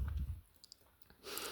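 Computer mouse clicks while installing WordPress on a local machine: a few faint, short clicks spaced apart in a quiet room after a soft low thump.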